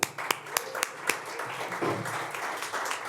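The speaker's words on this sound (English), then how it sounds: "let's give them a round of applause" A few isolated claps start things off, then a modest round of applause builds from a small group, fairly quiet and steady.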